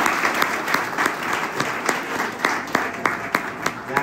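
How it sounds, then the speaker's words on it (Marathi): A kirtan audience claps hard and fast in a sustained round of loud applause, rhythmic sharp claps standing out over the wash of hands for the full four seconds. "इकडे जोरदार टाळ्या."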